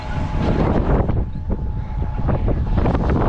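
Strong wind on an Australian farm at poppy planting time buffets the microphone with a loud, continuous low roar that rises and falls in gusts.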